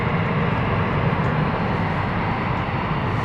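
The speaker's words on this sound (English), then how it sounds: "They're not taking off just yet because obviously the bizjet is on final." Business jet on final approach to London City Airport, a steady broadband roar of jet engines with an even, sustained hum, fairly loud and unbroken.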